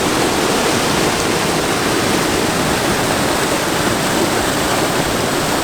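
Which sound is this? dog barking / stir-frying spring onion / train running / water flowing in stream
water flowing in stream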